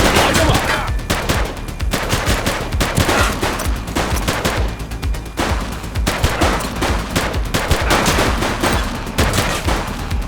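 Dense gunfire in a police shootout from the video game The Precinct: rapid automatic bursts and overlapping shots crackle loudly and continuously, with brief lulls between volleys.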